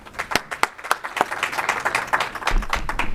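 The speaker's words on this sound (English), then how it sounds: "give the last warm round of applause to Professor Maldonado Torres" Warm round of applause for Professor Maldonado Torres at an academic lecture, a crowd clapping steadily and fairly close for about three seconds, growing denser toward the end.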